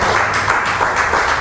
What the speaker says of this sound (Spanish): Si ese aplauso es para Cristo, denle fuerte